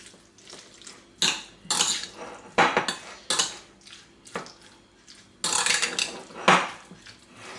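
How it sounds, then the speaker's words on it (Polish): Vegetable salad being mixed in a bowl with salt, pepper and mayonnaise, heard as bursts of wet, squelchy stirring and spoon scraping, close by, separated by quieter pauses. "A tutaj do sałatki dodaję soli i pieprzu, dodaję majonez, mieszamy."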